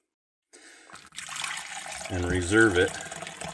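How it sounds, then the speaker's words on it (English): Water is poured out of a container into a separate one, a splashing stream that rises and continues steadily while a person speaks over it. "I'm going to dump this water out"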